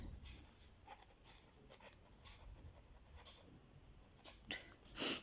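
A pen scratches across paper while drawing a line segment for a school geometry construction, faint and intermittent strokes close to the mic in a quiet room, with a slightly louder scratch near the end.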